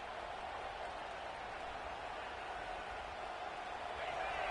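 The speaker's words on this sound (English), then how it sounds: "This crowd trying to make life miserable for this offense." Dense, steady roar of a football stadium crowd making noise against the offense after a defensive turnover, a continuous broadband wash that swells slightly toward the end, with no clear voices over it.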